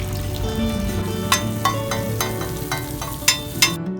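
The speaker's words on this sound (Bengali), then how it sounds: "দেখতে দেখতে আমাদের মাছ ভাজা কমপ্লিট" Fish frying in hot oil at a riverside eatery on Mawa ghat by the Padma, a steady sizzle with occasional scrapes and taps of a utensil against the pan.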